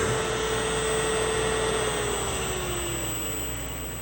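A 1hp three-phase 220V motor driven by a YL600 VFD coasts down unbraked, its steady whine and hum slowly falling in pitch and fading slightly over a few seconds, alone with no talk.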